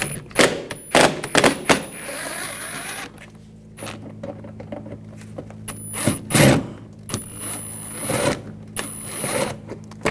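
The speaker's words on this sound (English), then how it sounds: "Take these screws out." Phillips screwdriver turning and backing out mud flap screws on a 2006-2010 Hummer H3, giving close, irregular clicks and ratcheting taps in short bursts with brief pauses, no talking.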